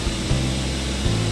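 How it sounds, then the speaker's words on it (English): Pneumatic system of a TC 1631A CNC wood router engaging after the main switch is turned on, a steady low compressor-like hum with brief pulses as the air system kicks in, close and continuous for about a second. "we hear our pneumatic system activated"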